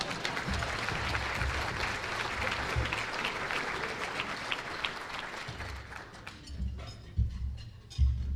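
Guests at an annual luncheon applaud, a dense steady round of clapping that tapers off toward the end, with a few low thumps near the microphone as it dies away.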